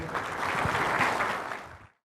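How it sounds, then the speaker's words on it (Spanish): A seminar audience applauds a speaker at a talk on technology and citizen empowerment, a short burst of steady clapping that fades out near the end. "Un aplauso para Edgar, por favor."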